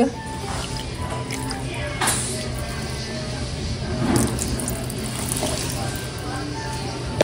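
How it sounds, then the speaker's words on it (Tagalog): Water is poured into a cooking pot of fish being prepared as paksiw with salt and pepper, making a soft, continuous splashing rush. Voices talk faintly in the background. "Lalagyan lang din po natin ng tubig."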